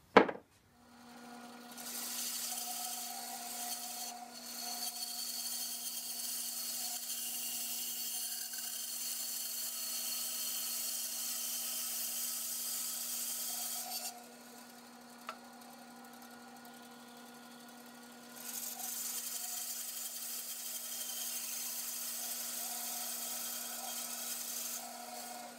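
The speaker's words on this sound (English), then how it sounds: "I'm going to use the bandsaw to cut the bulk of this out" A continuous machine whine with a steady hum and gritty hiss, running for long stretches with a brief pause midway, like a bandsaw cutting wood.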